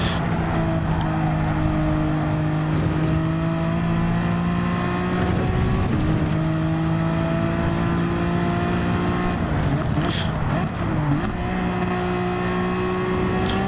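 An older Epson Honda NSX race car screams along in a racing video game, its engine a steady high drone with shifting pitch as it holds speed, and a second car's engine whines nearby, with no talking.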